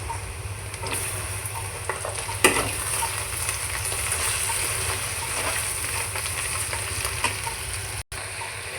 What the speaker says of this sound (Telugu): మనం చిక్కుడుకాయలు ఉల్లిపాయలు వేపుకుంటున్నాం అన్నమాట.